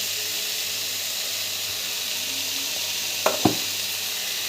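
Eggs frying in a pan, cooked half-boiled style, give a steady close sizzle throughout, broken near the end by two short clinks of a utensil.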